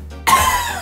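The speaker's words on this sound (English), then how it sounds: "So there is a guy coughing in the background." A man coughs once, a sharp burst that trails off, over a steady low hum in the background.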